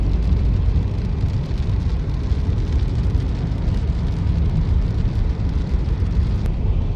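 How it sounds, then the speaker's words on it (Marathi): Rain falling on a moving car during the first summer shower, a dense steady patter and hiss over a low road rumble from inside the vehicle, continuous and fairly loud. "माझ्या या उन्हाळ्यातला हे पहिला पाऊस आहे गाडीमधला"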